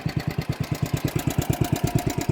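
A 1960s Toro Professional 70 reel mower's small engine runs steadily and close, a fast even chugging pulse with a rough, knocking edge, loud and alone with no talk.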